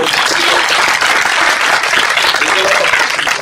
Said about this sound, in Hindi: सबको जोरदार ताली बजाएं प्रभु।